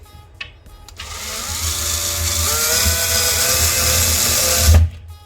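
A power drill drives a screw into a cabinet door hinge, starting after a faint click and whirring loud and close for about four seconds, the motor pitch climbing as it tightens before cutting off abruptly.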